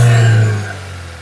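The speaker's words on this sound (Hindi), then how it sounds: "तो इस इंजन का साउंड सुनने में ही काफ़ी ज़्यादा स्पोर्टी है" A Volkswagen Virtus GT engine, 148 bhp, runs close by with a strong low rumble that settles from a raised rev toward a steadier idle within a moment.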